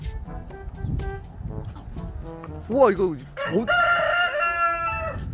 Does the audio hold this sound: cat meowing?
no